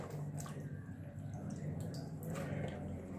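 Water drips and trickles from freshly soaked raw potato slices tipped into a kitchen strainer, a soft continuous wet patter with brief splashy bursts, close and low in level.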